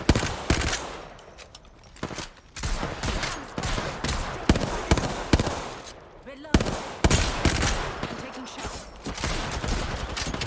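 Rapid gunfire from the video game Apex Legends, with dense bursts of automatic shots and sharp single cracks stacking up throughout, loud and close, while voices talk over the action.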